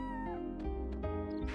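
A cat meows in the video game Chrono Cross, a short cry rising over steady background game music, fairly close and clear.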